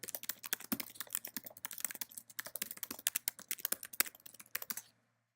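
Close typing on a computer keyboard, a quick irregular run of crisp key clicks for about five seconds, then silence, with no voices.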